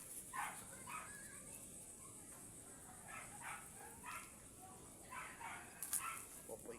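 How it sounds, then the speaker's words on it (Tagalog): A dog on a walk gives several short, faint barks and yips in scattered bursts over a quiet outdoor background. "Binabantayan ko guys itong asong to."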